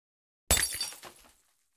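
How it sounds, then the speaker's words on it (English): Glass smashing inside a house like a window or bottle breaking, one sharp crash followed by tinkling shards that fade out within a second, with no talking. "It sounds rather like a window smashing, even though it sounded like a bottle"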